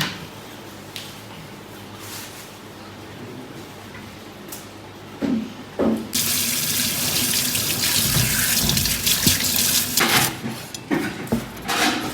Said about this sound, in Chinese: 我先去洗菜